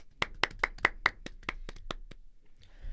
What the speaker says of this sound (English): So, round of applause to our football team.